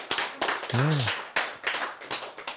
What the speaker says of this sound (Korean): 이쯤 되면 박수 나와야지.